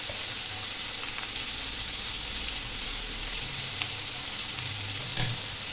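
Snake gourd and potato fry in hot oil with a steady, close sizzle throughout, a faint low rumble underneath and a brief sharper crackle near the end; no one speaks.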